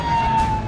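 A steady ambulance siren tone holds over a low rumble at a factory blast site in Harda, India, loud and close, lasting under a second with no pitch sweep.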